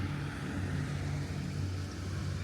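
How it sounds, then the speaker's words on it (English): A boat engine drones steadily with a low, even rumble, close by and continuous, with no voices over it, as a passenger boat travels the Sassagoula River at Walt Disney World. "This is a boat coming down the Sassagoula River, taking people from Disney Springs back to Riverside."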